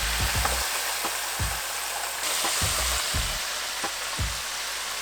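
Chicken sizzling in a deep fryer heated to 350 degrees, a steady bright crackle and hiss of hot oil with soft bubbling and occasional low thumps, moderately quiet and with no talking.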